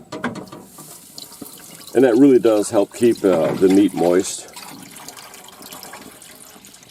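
Water runs from a tap into a smoker's water tray in a steady, faint trickle throughout, largely covered by someone speaking close to the microphone in the middle.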